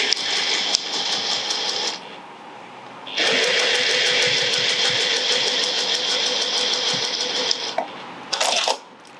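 A sewing machine stitches a row along a clutch bag in rapid mechanical bursts, a short run, a pause near two seconds, then a long steady run and a couple of brief final spurts, close and clear with no talking.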